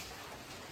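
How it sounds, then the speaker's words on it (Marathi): Light rain falling outdoors beside a car, a steady soft patter and hiss of drops on surfaces, faint and continuous throughout with no talking. "पाऊस चालू आहे थोडा"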